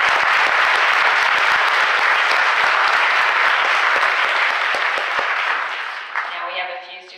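Steady, loud applause from a graduation ceremony audience fills the room, dense clapping holding for several seconds before thinning out and fading at the end.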